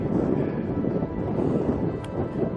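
Steady broadband wind roars across high rocky mountain terrain on a mild fall day, a continuous blustery rush with gentle gust swells and no voices.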